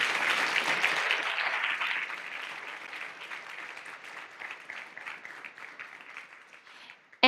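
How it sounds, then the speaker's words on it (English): Applause from the audience at a physics tournament final rises loud and dense at first, then thins and fades toward a softer patter, with a sharp noise at the very end. "Let's give a last round of applause for this fight"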